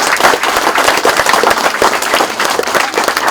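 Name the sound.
applause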